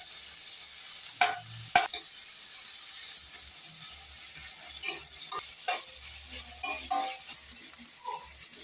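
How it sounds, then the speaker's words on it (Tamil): Onions fry in a pan until golden with a soft, steady sizzle. Several sharp spatula scrapes and clinks come as they are stirred, and the frying quiets partway through. "ஆனியன் போட்டு நல்லா பொன்னிறமாக வரையில் வறுக்கணும்"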